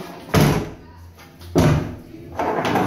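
Bathroom door in a pub swung open and shut, giving two heavy thumping knocks about a second apart and a third softer bump, close by.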